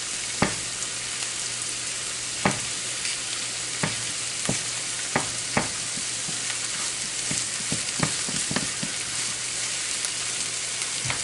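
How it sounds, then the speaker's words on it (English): Herring fillets frying in hot oil in a pan, a steady loud sizzle throughout with scattered sharp pops and crackles, no voices. "Let's get the herrings in there whilst these are getting translucent and flavoring that oil"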